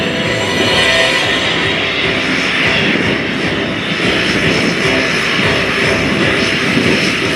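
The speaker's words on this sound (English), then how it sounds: "The F-22 Raptor from right here at the 1st Fighter Wing." F-22 Raptor fighter jet from the 1st Fighter Wing roaring past in a flyby at an air show, a loud, steady, broadband engine rumble that holds for several seconds without letting up.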